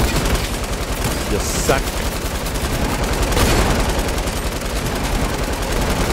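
Sniper and automatic gunfire in a Fortnite beach-assault match, a dense continuous barrage of shots under a shouting voice.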